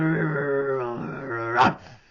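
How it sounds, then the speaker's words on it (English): Dogs give a drawn-out growling whine followed by a short sharp bark near the end, close and fairly clear with no talking. "they sound like dogs to me"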